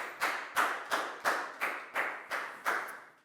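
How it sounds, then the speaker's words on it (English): A classroom of pupils gives a round of applause for a classmate, heard as seven evenly spaced sharp clap-like bursts, each fading quickly, moderately loud and close. "a big round of applause for Prau"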